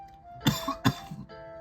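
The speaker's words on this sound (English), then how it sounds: "I just started coughing." Two sharp, close coughs in quick succession, followed by a brief throat-clearing rasp, with no speech.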